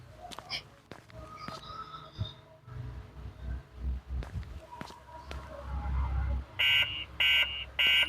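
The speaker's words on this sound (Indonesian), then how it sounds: "Alarm emergensinya dibunyikan." An emergency alarm buzzer sounds in a night-shift nurse horror video game, heard as three loud, evenly spaced buzzes at the end after quieter footsteps and thumps.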